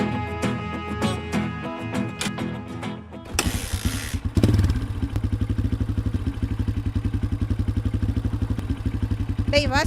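A motorcycle starts with a clatter, then settles into a steady, rapid, close engine putter with rhythmic pulses as it pulls away.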